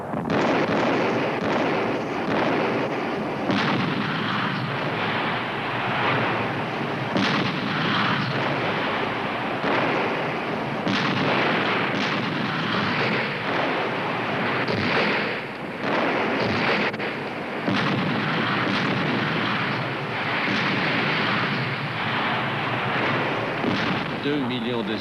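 Russian artillery pounds fortified city blocks in the Battle of Berlin, 1945: a dense, continuous barrage of booming blasts and rumbling explosions, loud and unbroken across the whole stretch.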